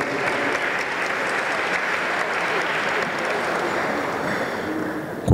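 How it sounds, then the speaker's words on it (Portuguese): A large audience at a corporate awards gala claps steadily for an honoured company, the dense even applause holding unbroken throughout with no speech. "Mais uma vez, uma salva de palmas"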